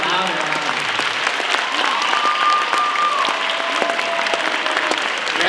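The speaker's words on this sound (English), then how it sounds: "giving him a big round of applause" A large audience claps steadily and loudly for a guest at the close of a live session, a dense continuous applause with a faint tonal line running through it.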